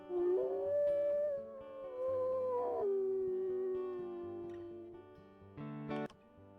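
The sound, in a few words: wolf howling in the video game WolfQuest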